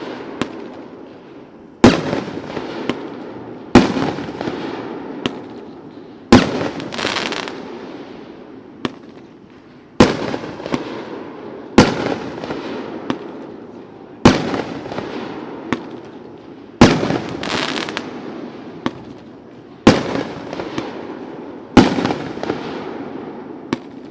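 The Rainbow from Sky Bacon fireworks cake fires 16 shots at an outdoor fireworks demo expo: loud booming reports every couple of seconds, each trailing into a long rumbling decay with faint crackles between, no voices.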